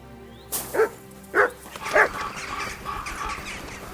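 Mutt the dog in Kingdom Come: Deliverance II gives three distinct barks spaced about half a second apart, close and clear, followed by softer ambient game sound.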